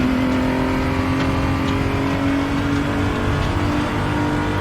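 A BMW M235i Racing car accelerates on the Portimao circuit, its engine droning loud and steady from close by with a constant pitch and no talking.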